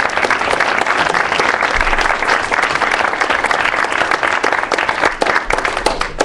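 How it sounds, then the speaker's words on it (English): A live debate audience applauds its two finalists in a loud, dense, sustained roar of clapping that carries on without a break for several seconds. "give both of our finalists here a big round of applause"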